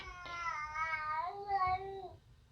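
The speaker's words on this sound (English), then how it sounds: "I don't know what's going on with my cat." A pet cat lets out a drawn-out, wavering meow up close, rising then falling over about two seconds, fairly quiet in an otherwise calm indoor room.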